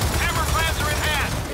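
Gunfire from the video game Gears of War 4, a continuous loud rattling burst of shots and blasts filling the whole moment, with a voice mixed underneath.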